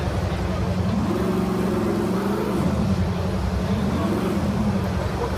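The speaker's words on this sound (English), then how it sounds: "This engine sound, it's actually just hooked up to the RPM, and also we calculate the load on the engine as well" A video game car engine, driven by RPM and engine load, drones steadily while its pitch rises and falls twice as the revs climb and drop.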